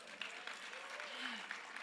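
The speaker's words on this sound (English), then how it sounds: "you can clap" Audience applause at an awards event, a steady wash of clapping held at a fairly quiet level throughout, with a faint tonal voice-like sweep passing over it.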